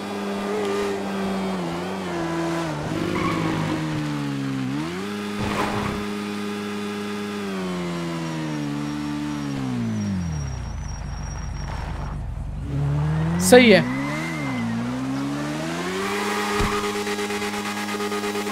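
Heavy superbike ridden in GTA 5, engine droning with rising and falling revs, a deep slowdown near the middle, then revving up again with a brief sharp burst, steady and close throughout with a short spoken remark.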